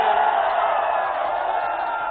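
Huge crowd at a Samajwadi Party workers' rally for Akhilesh Yadav at Bapu Inter College, Kopaganj, cheering in a loud, continuous roar of many voices that holds steady throughout.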